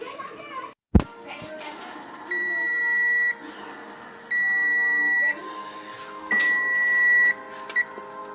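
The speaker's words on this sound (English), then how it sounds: "Okay, so our timer went off" A kitchen timer goes off during pressure canning of pinto beans, sounding three long, loud electronic beeps with pauses between them, close by, after a sharp click, with faint background voices.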